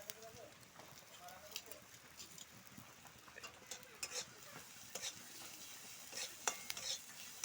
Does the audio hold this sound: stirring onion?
yes